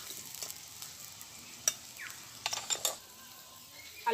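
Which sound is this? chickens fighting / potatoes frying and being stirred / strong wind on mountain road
potatoes frying and being stirred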